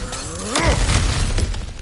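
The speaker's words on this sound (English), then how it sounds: "Ah, back to smashing through things for fun and profit." A loud crash of objects smashing and breaking apart in God of War Ragnarok, one heavy impact followed by scattering debris.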